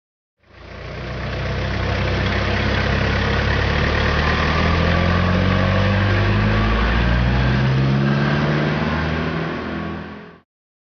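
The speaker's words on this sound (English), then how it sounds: "Pickup truck." A toy pickup truck's electronic engine sound, idling with a steady low rumble and then revving up, loud and continuous for about ten seconds with no talk.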